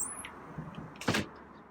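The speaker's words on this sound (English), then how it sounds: "Close the door." A door being shut indoors, a single soft slide and a firmer thud near the end of a quiet room, close by and without talk.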